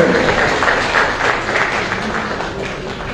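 Dense crowd applause at a fire brigade ceremony, a steady wash of many hands clapping at once, fairly loud with faint voices underneath.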